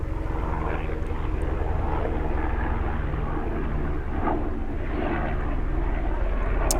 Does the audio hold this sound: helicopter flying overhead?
yes